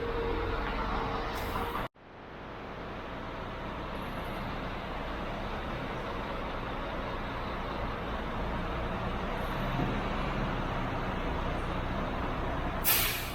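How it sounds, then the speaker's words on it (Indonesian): Large diesel buses idle and move about a Malaysian bus terminal, a steady broad engine rumble with traffic noise throughout and a sharp air-brake hiss near the start and again at the end. "Ini mobil-mobil diesel, mobil-mobil besar semua."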